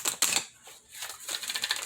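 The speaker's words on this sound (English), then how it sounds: "Shuffling for Aquarius." Quick papery riffling bursts of cards being shuffled, close and crisp, with brief pauses between flurries.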